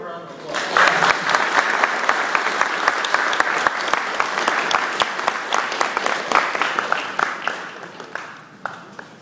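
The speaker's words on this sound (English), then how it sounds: "let's give him a round of applause" An audience applauds after a math talk, a loud burst of many hands clapping that swells quickly and holds steady with sharp individual claps standing out, then tapers off near the end.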